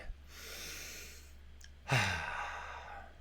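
A single deep breath drawn in slowly, then a louder, breathy exhale like a sigh, close to the mic and with no speech.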